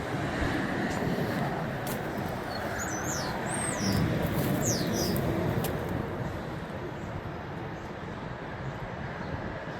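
Outdoors beside a highway, wind buffets the microphone with a loud, continuous rumble while traffic roars steadily underneath; a few faint high chirps come through midway.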